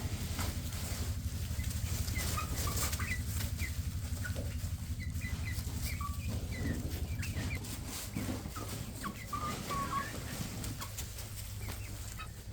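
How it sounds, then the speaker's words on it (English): Young pullet chickens squabbling over pecking order in an outdoor pen, bursts of agitated clucking and squawks with occasional wing flapping, fairly close, over a continuous low rumbling background noise. "So these are all pullets, but we still have to rearrange the pecking order once in a while."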